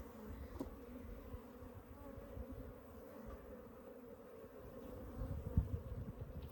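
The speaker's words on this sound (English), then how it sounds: "they're just really old robber bees" Old robber honey bees hum and buzz around a hive built inside a water meter box, a steady low drone with occasional louder passes of individual bees close by.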